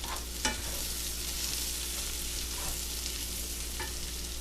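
Leftover rice stirred into a hot frying pan for mujadara, a steady close sizzle with a sharp spatula scrape near the start and a few soft scraping strokes.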